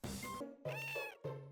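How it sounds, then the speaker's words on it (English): Three cartoonish meows from a cat being petted in the farming game Sunshine Islands, each a clear, close, tonal call separated by short silences. "Time to pet the cat!"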